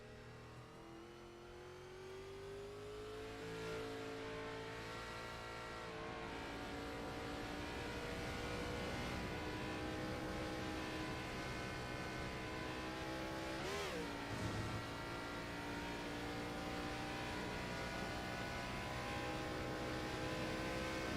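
Race car engines at Watkins Glen International in the iRacing sim, revving and shifting through gears as they accelerate, a sustained droning whine that climbs and dips steadily for around twenty seconds with no talk.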